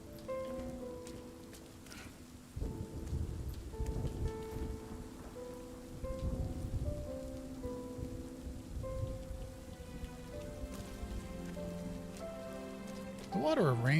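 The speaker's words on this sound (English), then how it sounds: "water and rain effects are really nice" Rain falling steadily in the video game RiME, with musical tones and occasional low rumbles blended into the wet patter.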